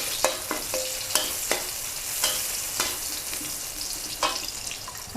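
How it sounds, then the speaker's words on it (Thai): Shiitake mushrooms stir-fry in oil in a pan for a vegetarian stir-fried noodle dish. A steady sizzle runs throughout, broken by sharp clacks and scrapes as a spatula tosses them, with no speech. "นี่เราก็จะใส่เห็ดหอมค่ะ ลงไปผัดนะคะ"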